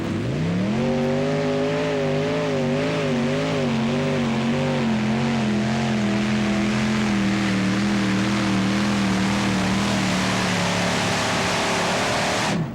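Fox Team Larsen race car engine during its run, a loud steady drone with a wavering, revving pitch that holds for over ten seconds before cutting off, with no voices.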